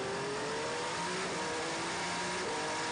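Race cars at the 6 Hours of Fuji on a damp track drone past with rising and falling engine pitch, a continuous, moderately distant roar with no talking.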